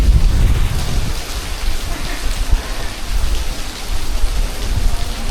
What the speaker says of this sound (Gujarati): એટલો વરસાદ ઉપર પડ્યો છે